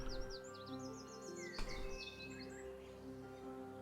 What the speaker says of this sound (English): you can hear the crying of birds and the buzzing of bugs